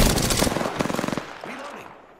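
A Longbow DMR rifle fires in the shooter game Apex Legends, a quick run of sharp, loud shots in the first second before fading into quieter game sounds.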